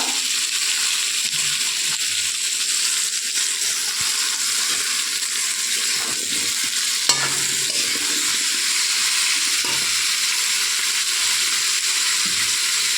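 Food sizzles steadily in a hot pan with salt added, a continuous close frying hiss with faint occasional stirring scrapes and no talking.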